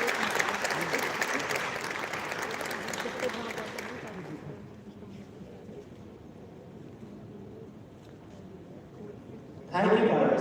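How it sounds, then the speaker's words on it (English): Audience applause at the closing ceremony of a college tech-talk event, full for about four seconds and then tapering to a low murmur. A sudden loud burst of sound comes in near the end. "A big round of applause for them."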